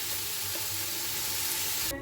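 Hot water goes into a pan of frying mutton and potatoes, producing a loud steady sizzle and hiss that fills the moment, with no talking.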